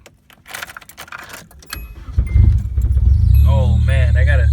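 Keys jangle, then a car engine cranks and catches, settling into a steady, loud idle rumble; the car has freshly repaired power steering and a drive belt that needs tightening.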